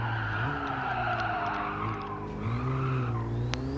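A Hyundai Elantra N in Gran Turismo 7 brakes hard on the Deep Forest circuit, its tires skidding and squealing over a steady engine drone that shifts pitch as it slows, loud and continuous throughout.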